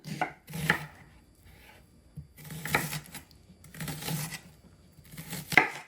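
A knife finely dices an onion on a cutting board for a Swiss mushroom spinach quiche, sounding as three bursts of rapid, close chopping taps with short pauses between them.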